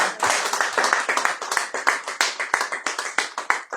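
A church congregation claps in a fast, steady rhythm to acclaim the Lord during a Sunday service, many hands striking together loudly and evenly throughout, with no voices.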